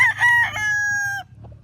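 A young gamefowl stag, not yet a full cock, gives one close, clear crow of about a second that breaks off sharply, with faint background noise afterward.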